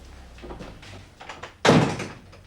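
A door is shut with a single solid thud, close and loud, after a brief stretch of quiet room sound with faint movement.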